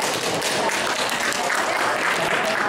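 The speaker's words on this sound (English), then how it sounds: "Again, can you clap?" A conference audience claps on request. Dense, continuous clapping fills the space at steady volume with a murmur of voices underneath.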